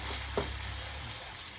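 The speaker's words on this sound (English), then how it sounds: "You want to put your tomatoes in. You're going to get a big sizzle." Steady frying sizzle of tomatoes in a hot pan, a continuous broadband hiss with a brief clatter near the start, close and fairly even throughout.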